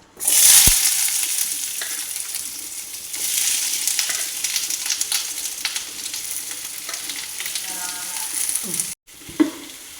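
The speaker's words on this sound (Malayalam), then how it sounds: "കുറച്ച് വെളിച്ചെണ്ണ ഒഴിച്ചു പാത്രത്തിൽ എന്നിട്ട് ഈ സബോള അതിനകത്തോട്ടങ്ങിടാം" Sliced onions hitting hot coconut oil in a pan for an egg dish, a loud close sizzle that gradually eases, with stirring and a brief clatter near the end.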